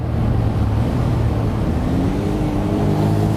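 Small Suzuki Cappuccino kei sports car engine revs steadily upward under load toward its 8,500 rpm redline, a loud continuous buzzing drone rising gradually in pitch from inside the car.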